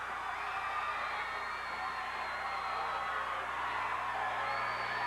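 A wrestling crowd roars in sustained pandemonium after Butch Reed slams his opponent, a dense, steady wall of cheering and whooping that stays loud and unbroken throughout.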